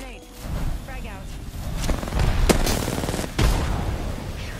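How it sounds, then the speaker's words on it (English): Gunfire and a frag grenade blast from Apex Legends Season 7 gameplay, with sharp broadband shots and a heavy boom, heard close and partly under a player's talking. "Opening fire. Grenade. Frag out."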